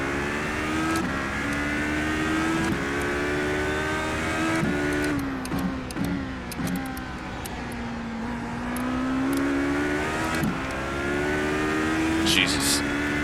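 Race cars in the iRacing game at the 24 Hours of Daytona roar past with rising and falling engine revs, a steady layered drone of several cars at moderate volume, with a commentator talking over it.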